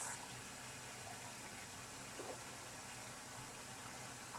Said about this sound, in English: I'm going to take it to the sink and start rinsing it.